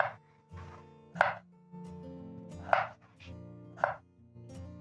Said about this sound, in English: Next, I'm going to pick my ginger and chop off the end. Peel my ginger, just like that.